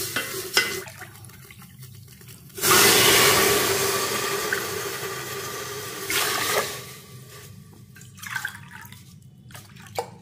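Water suddenly gushes into a cooking pot with a rushing splash that gradually softens, followed by a brief second pour and some stirring clinks.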